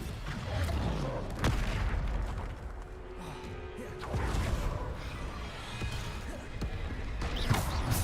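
Blasting spell explosions from Bombarda in Hogwarts Legacy, sharp bursts landing amid a busy battle bed of impacts and effects, loud and repeated over several seconds.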